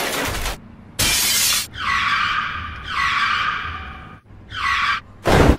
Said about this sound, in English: Oh no, and I drove into a hydrant.